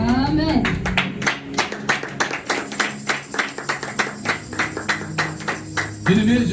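Church congregation clapping in a quick, even rhythm to acclaim the word, a run of crisp hand claps with a voice briefly heard at the start and end.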